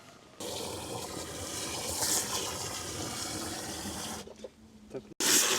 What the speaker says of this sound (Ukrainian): зараз набираємо воду, щоб замачувати її